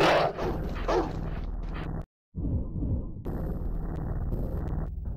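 Dogs barking in a video game, several loud, close barks and yips in quick succession, cut by a brief silent gap, then a steadier rumbling game noise.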